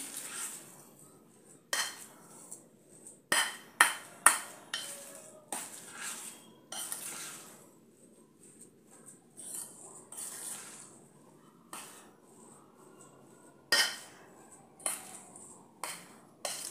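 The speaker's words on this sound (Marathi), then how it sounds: "सर्व मिक्स करून घेऊया, एकजीव करून घेऊया" Samosa filling is stirred and mixed in a pan, with a spoon giving repeated close metallic scrapes and clinks at an uneven pace and quiet gaps between, and no voices.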